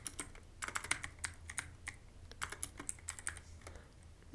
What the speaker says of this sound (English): just type here game mode